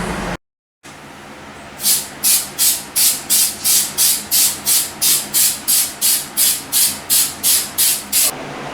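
Rapid rhythmic bursts of hissing spray from a spray paint can, over a dozen short pulses in steady succession, close and fairly loud after a brief silence.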